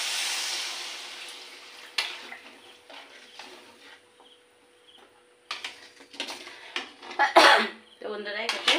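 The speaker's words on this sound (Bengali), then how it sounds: "তারপরে হাঁচি আসছে" A single loud sneeze bursts out in a home kitchen while an okra curry with potato and fish cooks, following a stretch of sizzling and frying, with talk around it.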